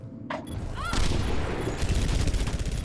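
Automatic weapon fire bursts repeatedly during an Overwatch match, a rapid stream of close, loud shots with game effects layered over it.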